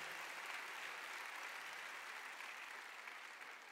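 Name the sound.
audience applause for cell leaders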